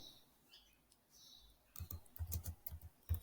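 Fingers tap quickly on a computer keyboard for a short burst, close and fairly quiet, after a near-silent opening with faint background sounds.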